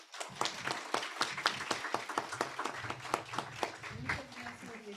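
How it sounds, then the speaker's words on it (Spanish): An audience claps at the close of a public-security lecture, a dense patter of hand claps that stays steady throughout, with voices mixed in beneath it. "Le vamos a brindar un fuerte aplauso a su compañero."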